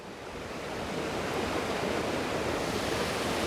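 A waterfall pours over rocks in a steady, dense roar that swells slightly at the start and then holds level, with no voices.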